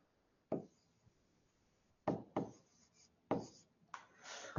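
Chalk scratching and tapping on a classroom board during a physics lecture, coming in several separate bursts of strokes with quiet pauses between them, close and fairly soft, with no voices.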